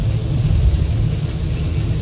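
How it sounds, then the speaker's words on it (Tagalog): Heavy rain drumming on a car being driven home at night, a steady dense roar with low engine and road rumble underneath, constant and close with no talking. "ang lakas ng ulan"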